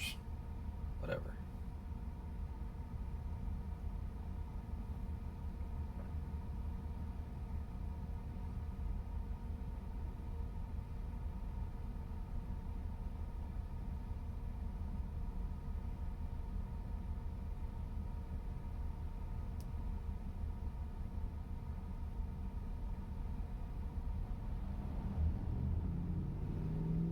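Car interior with a steady low engine and road rumble throughout, constant and moderately loud, with a faint brief knock near the start and no speech.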